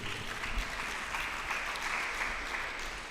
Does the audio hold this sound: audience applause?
yes